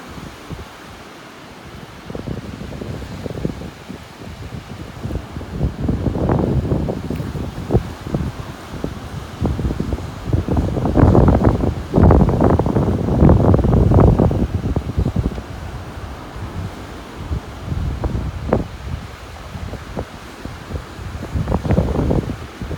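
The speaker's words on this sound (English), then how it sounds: "You can hear the wind blowing out here. The wind's blowing pretty hard." Hard wind on a North Naples, Florida beach buffets the microphone in loud roaring gusts that rise and fall, strongest in the middle, with no talk over it.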